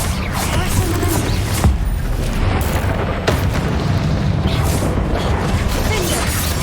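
A Confringo fire spell bursts in Hogwarts Legacy amid dense, continuous game combat noise, with several loud booming hits and mechanical clatter layered throughout.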